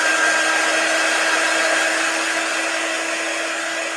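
A hair dryer blowing on shimmer chalk paste over a silk screen, a loud, steady, close whirring drone with a constant pitched hum and no break.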